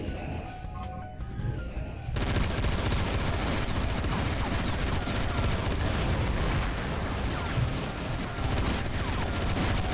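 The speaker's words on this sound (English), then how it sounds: "it fires guns that also bounce around, firing further guns" Dense, nonstop volleys of gunfire and explosive bursts from a Doom mod's bouncing projectile weapon that spawns more guns, loud and chaotic throughout after a brief quieter opening.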